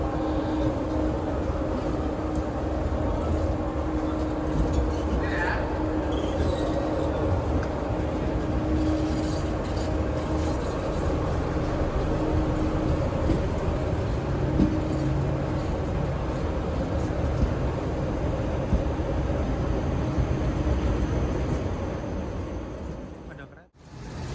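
At night, long-distance train carriages are shunted toward the depot, with a steady low rumble and drone of rolling stock and engine, a faint squeal partway through, and a person talking over it.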